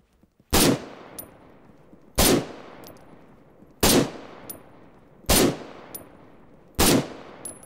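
Five single shots from a marksman rifle in the Arma 3 video game, each a sharp loud crack with a decaying tail, spaced evenly about one and a half seconds apart.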